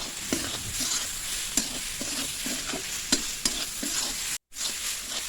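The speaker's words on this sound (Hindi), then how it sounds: "अब मैं मसाला को भी अच्छी तरह से पका लूँगी लगभग 2-3 मिनट तक" Masala for veg momos fries in a pan under a steady sizzle, with rhythmic spatula scrapes and taps of stirring repeating close up, and a brief dropout near the end.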